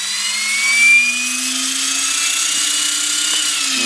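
An RC helicopter's rotor, driven by a YGE speed controller with a V-bar governor, spools up slowly and steadily, its whine rising gradually in pitch over a few seconds, loud and close with no talking.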